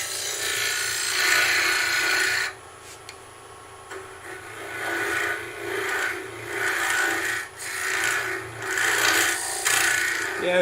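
Skew chisel turning wood on a lathe to flatten the bottom of a tea light holder, a steady close rasping scrape with a short pause and then uneven bursts of cutting.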